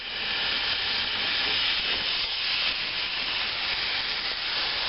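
Beef steak pieces browning in oil in a thick-bottomed pan, giving a steady, loud, even sizzle and hiss that holds without a break from start to finish, with no voices over it.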